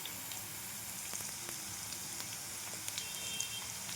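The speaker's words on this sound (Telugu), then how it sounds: "బాగా వేగిన ఆయిల్లోకి ఆనియన్స్ అయితే వేసుకోవాలి." Onions and green chillies frying in hot oil for fried rice, a steady close crackle and sizzle with scattered sharp pops throughout.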